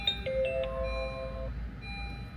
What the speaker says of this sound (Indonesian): kita coba nyalain dashcam, dan suaranya benar-benar kayak ETC Jepang